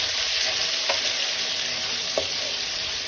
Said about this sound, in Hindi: अब इस मौके के ऊपर इसमें चिकन डाल देना है बिस्मिल्लाह। और इसकी करेंगे बुनाई अच्छी तरह